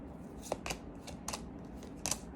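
Tarot cards are shuffled by hand, a few soft crisp riffling flicks in quick irregular bursts, quiet and close, with no voices.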